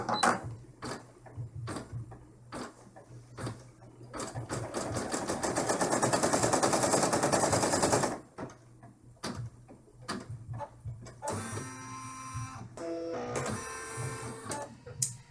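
An embroidery machine stitches an in-the-hoop dollhouse bag with loud, fast rhythmic needle hammering that swells into a dense steady run, separated by short pauses and sharp clicks, then resumes in a quicker, varied pattern.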